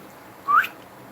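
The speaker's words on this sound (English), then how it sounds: "a soft whistle forms in his mouth" A single soft, brief whistle rising in pitch, heard alone against quiet background noise.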